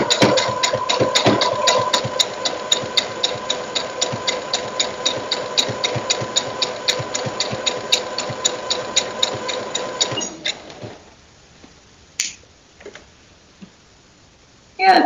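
Sewing machine stitching a hoodie for a cosplay costume, running in a fast, steady mechanical patter for about ten seconds before stopping, followed by a few faint clicks and handling noises.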